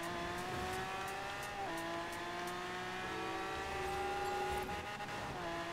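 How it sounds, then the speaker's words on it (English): Supercar engine in the Forza Horizon 4 racing game, revving loud and continuous with rising pitch sweeps as it shifts through gears, no talk over it. "it's the same engine sound lot."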